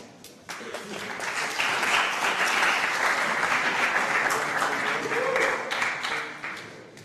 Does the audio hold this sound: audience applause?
yes